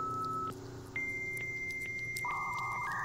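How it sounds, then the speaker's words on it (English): An old-fashioned AOL dial-up internet modem gives off sustained electronic tones that shift pitch in steps, pause briefly, then layer into overlapping handshake tones, fairly faint. "old-fashioned internet modem sounds. Yep, yep, AOL dial-up"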